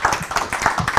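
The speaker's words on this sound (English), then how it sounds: "Can we give him an applause?" A small audience claps to welcome a guest at a talk event, a short run of quick, uneven hand claps close by with no voices over them.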